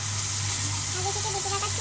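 Onion paste with a little salt fries in a pan for young jackfruit kofta, giving a steady, close hiss and sizzle with no pauses.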